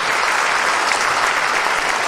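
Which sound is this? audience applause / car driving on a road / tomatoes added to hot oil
audience applause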